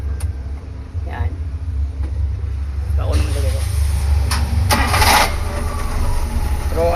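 A Suzuki F6A engine with a carburetor low-power fault turns over and catches, then runs at a steady low rumble close by while people talk over it.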